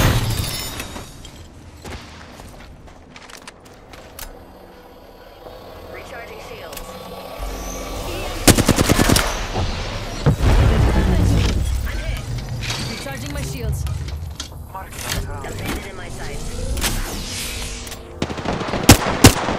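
Gunfire from a ranked battle royale match, with repeated sharp shots and bursts of automatic fire, some near and loud, others scattered and distant, over a busy game soundscape with occasional shattering and voices.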